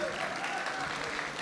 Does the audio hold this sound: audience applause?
yes